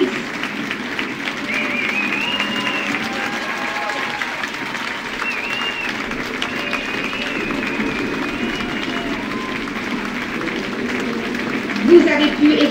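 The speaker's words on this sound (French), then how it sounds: "Merci d'applaudir" A large audience applauds steadily after a performance by a 158-voice school choir at Collège Fernand Lagrange, with voices and shouts mixed into the sustained clapping throughout.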